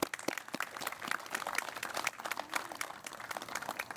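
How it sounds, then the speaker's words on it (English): Audience applauding police officers' families at a ceremony, a dense steady patter of many hands clapping throughout at a moderate, somewhat distant level. "please give the families a round of applause"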